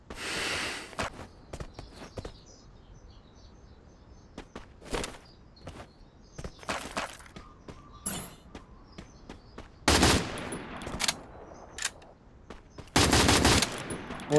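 Gunfire in the Free Fire battle royale game, with scattered single shots and short bursts separated by quiet gaps, plus two louder sustained volleys near ten and thirteen seconds.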